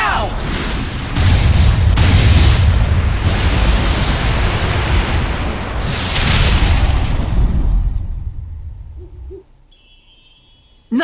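A cannon fires and explodes in the Tales of Zestiria video game, giving loud, sustained blasts and rumbling booms that fade toward the end, with no talk over them.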